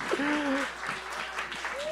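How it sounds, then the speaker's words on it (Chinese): A church congregation at an elders' and deacons' ordination service claps warmly in a short burst, and a voice speaks over the applause. "大家给他一个掌声"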